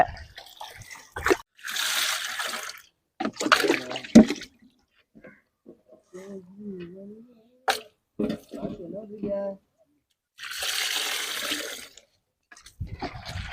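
Raw duck meat is rinsed in water: bursts of splashing and sloshing come and go, separated by quieter stretches with people talking.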